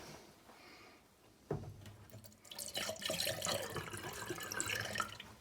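Glycol is poured into drains in an old Arctic house, a sudden gush of liquid splashing and gurgling down a drain after a quiet moment, close and steady.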